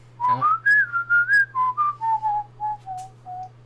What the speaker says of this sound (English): That was some beautiful whistling.